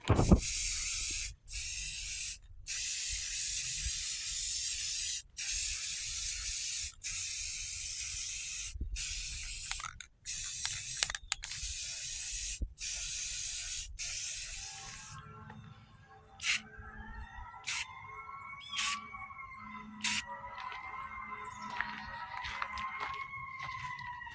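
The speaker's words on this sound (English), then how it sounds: "I'm going to go ahead and give them a little coat of paint just so they don't rust." Aerosol spray paint hisses in steady bursts over rusty 2000 Lincoln Town Car parts in a garage, with short pauses between passes. Bird chirps follow in the second half once the spraying stops.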